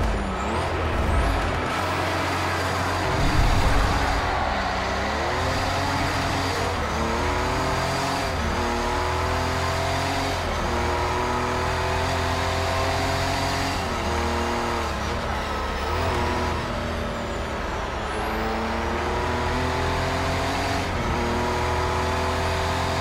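A 1985 Porsche 962C race car engine at Silverstone Classic GP in Project CARS 3, revving loudly at the start and climbing through repeated rising gear pulls, steady and close throughout.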